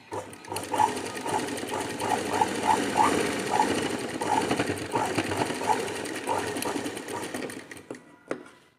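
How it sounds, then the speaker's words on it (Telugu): A sewing machine runs steadily and close by, stitching the hook strip on the back of a blouse, with a continuous rapid whir and faint rhythmic clicks and a soft stop at the end. "ఫస్ట్ ఇది కాజా పట్టి కుడుతున్నాను"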